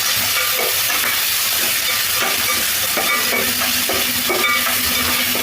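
Bagara rice and chicken fry being stirred in a pan at home, with a steady loud sizzle and repeated scraping strokes of the spoon throughout.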